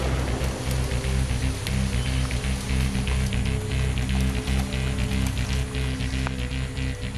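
Rain falling in a humid jungle, a steady loud patter under a continuous low hum, with scattered sharp drips and clicks throughout and no talking.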